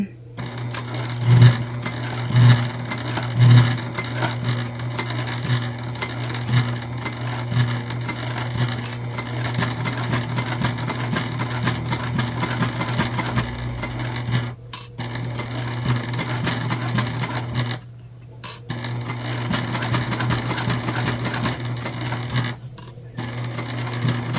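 A sewing machine runs steadily, stitching a craft show wristlet bag with a steady mechanical hum and rapid needle chatter, pausing briefly a few times, with some light clicks near the start.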